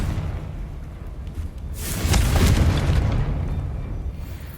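In the video game Hogwarts Legacy, a Confringo fire spell explodes with a deep rumbling boom that swells midway and trails off into a sustained roaring whoosh, heard alone and fairly loud.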